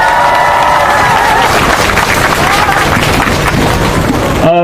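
A crowd at a candlelight protest rally breaks into loud applause and cheering, a dense sustained roar of clapping that swells right after an announcer's voice fades out.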